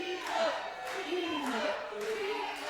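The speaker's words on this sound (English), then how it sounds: "The crowd swelling in support of EJ Reiver." Wrestling crowd at a Target Wrestling show in Carlisle swells in support of EJ Reiver, a steady roar of cheering rising and falling in waves beneath a commentator's voice.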